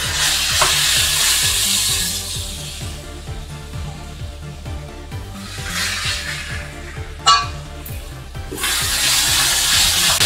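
Meat frying with golden onions for beef stroganoff, a continuous loud sizzle with repeated stirring scrapes and a brief clink, close by with no talking.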